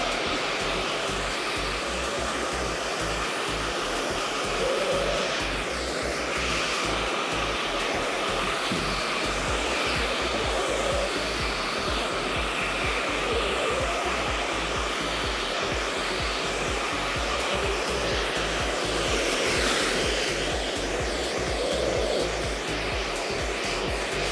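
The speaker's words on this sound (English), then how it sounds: "So we're using 3 blow dryers." Three blow dryers drying hair during a keratin treatment, a loud continuous overlapping whirring roar, close and steady throughout with no pauses.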